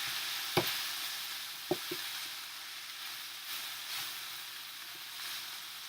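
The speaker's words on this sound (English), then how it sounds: "So you're going to give that a good stir." Ground turkey, sweet potato and zucchini sizzle softly in a cast iron skillet while being stirred. A low, steady hiss is broken by a few sharp clinks of the utensil against the pan.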